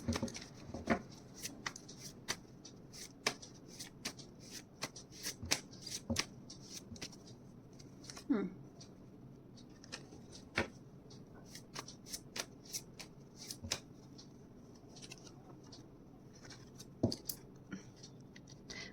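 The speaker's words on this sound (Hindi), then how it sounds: "शफलिंग मैं फिर से करती हूँ" A deck of tarot cards is shuffled repeatedly up close, with quiet riffles and sharp card snaps in irregular bursts over a soft background.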